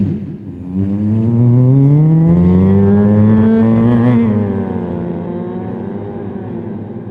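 On stage, a comedian's voice imitates a sports car driving past: a loud, buzzing engine tone that rises in pitch, peaks, then drops and fades over several seconds.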